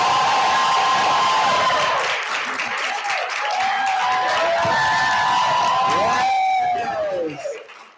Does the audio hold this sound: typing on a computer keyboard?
no